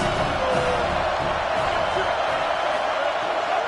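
Football stadium crowd at a college game between Auburn and Tennessee, a dense, steady roar of many voices filling the whole clip at constant loudness, with no distinct individual shouts standing out.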